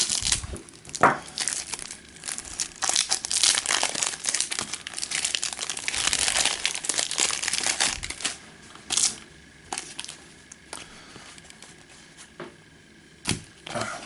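Marvel Champions card game box being unwrapped, with dense, close crinkling and tearing of plastic wrap that thins out into scattered crackles and snaps toward the end, no talking.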